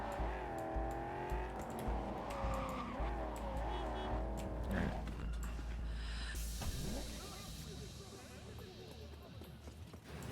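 A car engine revs and drones while tires squeal and skid in Cyberpunk 2077, with people talking over the driving noise throughout.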